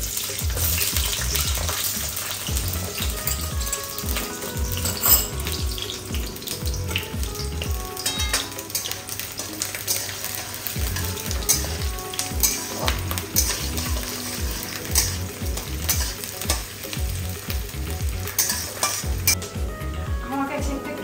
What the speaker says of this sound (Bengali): তেলটা যখন গরম হয়ে যাবে তখন পেঁয়াজগুলো দিয়ে দেবো।